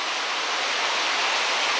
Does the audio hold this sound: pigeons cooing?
no